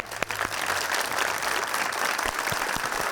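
Studio audience on a comedy game show breaking into sustained applause, a dense, even wash of many hands clapping that holds steady throughout.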